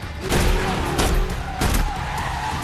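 A car drifts hard with its tires skidding, a loud screeching smear over engine roar, with heavy thuds and impacts punctuating the slide.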